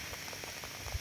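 Steady rain falls and patters on a surface outdoors in the Philippines, a dense, even hiss of drops with small irregular splashes running unbroken through a short stretch, with no voices.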